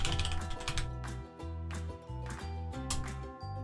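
Quick clicks of typing on a computer keyboard come in short, uneven runs, close but fairly soft, over steady tonal background music.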